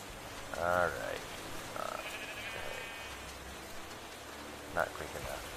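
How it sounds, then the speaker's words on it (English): Sheep bleating in the video game Minecraft, two short wavering bleats a few seconds apart over a steady background hum. "I don't want two different sheep. Hi, Sheepy."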